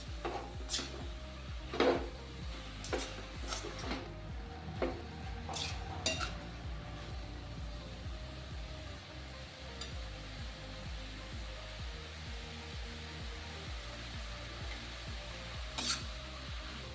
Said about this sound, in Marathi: आपण या तुपामध्ये दोन मिनटं आपलं गाजर असे परतून घेणार आहोत